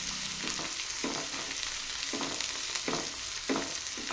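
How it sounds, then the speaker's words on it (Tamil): Onions and curry leaves being sautéed in a pan for a bitter gourd kuzhambu, with a continuous close sizzle broken by regular scraping stirs about every half second. "இப்போது வெங்காயத்தை நல்லா வதக்கி விட்டுக்கோங்க."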